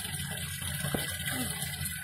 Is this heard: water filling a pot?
yes